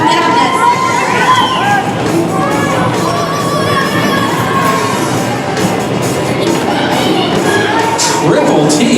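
A roller derby crowd cheers and shouts during a jam, a loud, dense roar of many voices with children's shrieks, continuous and close, with an announcer talking over it.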